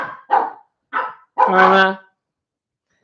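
Several dogs bark in short loud bursts, a couple of quick yaps followed by a longer harmonic howling bark, close by with brief pauses between; a voice speaks a word at the start.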